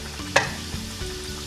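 Kachoris frying in hot oil give a low, continuous sizzle, opened by one sharp clatter, then quieter bubbling with a soft knock, close and without speech.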